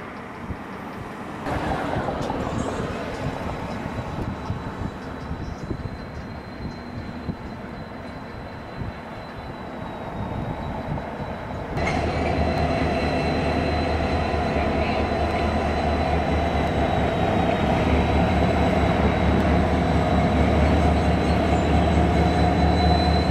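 Several coupled railroad locomotives roll past on a light engine move, a loud steady rumble with engine drone and wheel noise that swells and thickens partway through, a faint squeal running throughout.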